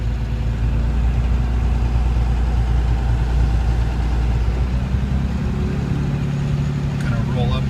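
A Toyota FZJ80 Land Cruiser with a swapped 6BT diesel and NV4500 transmission pulls away in second gear, its low engine drone steady and loud throughout while a voice talks over it.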